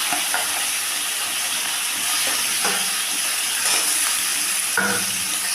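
Boiled hog plum pieces fry in hot oil with five-spice for a sweet chutney, giving a continuous close sizzle broken by several scraping stirs and clinks of a spoon against the pan.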